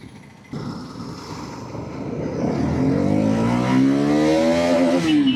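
A Bajaj Pulsar NS200 motorcycle engine revs up hard toward the top end, its pitch climbing steadily and loudly over several seconds into a sustained high whine.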